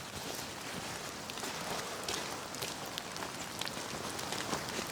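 Rain falling outdoors during landscape photography, a steady faint hiss of drops with scattered pattering, continuous and even throughout.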